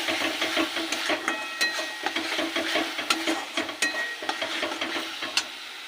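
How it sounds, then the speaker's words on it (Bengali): Salt with turmeric, cumin, coriander and chilli powders is fried in a pan, a close sizzle punctuated by steady, rhythmic spatula scrapes and taps throughout. "এটাকে ভালো করে কষিয়ে নিয়েছি"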